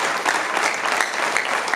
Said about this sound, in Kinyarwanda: Amashyi y'abakiriye